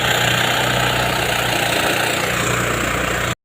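A Grabagan SJM power rice thresher engine runs loud and close with a steady, unbroken drone and rattling vibration, then cuts off abruptly at the end.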